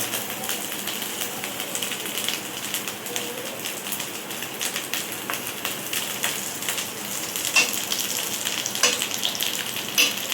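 Ghee frying together with grated coconut in a pan while cooking mung dal with colocasia: a steady, even sizzle with soft crackles and small pops, close by and continuous, with no one speaking.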